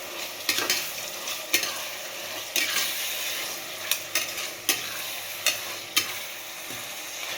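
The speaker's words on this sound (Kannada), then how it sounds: "ಅದು ಚೆನ್ನಾಗಿ ಎಣ್ಣೆಲಿ ಅದು ಫ್ರೈ ಆಗಲಿ." Tomatoes frying in oil for mutton biryani, a steady sizzle with loud, sharp spoon scrapes against the pan at irregular intervals, close and without talk.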